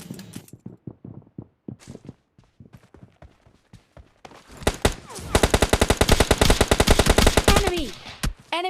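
Shotgun and rapid gunfire in a mobile shooter game, scattered footsteps and single shots at first, then a loud dense burst of fast repeated blasts dominating the last few seconds.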